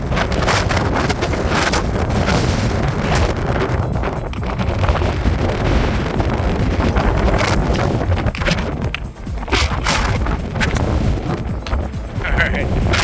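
Strong wind gusts buffet the microphone on a mountain trail, loud rumbling bursts that swell and ease over several seconds with no speech.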